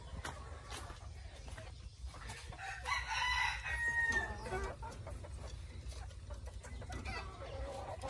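Bantam chickens on a farm in Tay Ninh, with young birds four to five months old, cluck steadily in the background while a rooster crows loudly near the middle of the scene, and no one talks.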